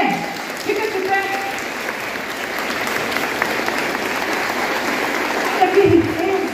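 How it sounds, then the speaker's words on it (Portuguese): A crowd at a religious gathering at the Vale da Imaculada stands and applauds children, a steady, full round of clapping with cheering and talking mixed in throughout. "Vamos aplaudir essas crianças,"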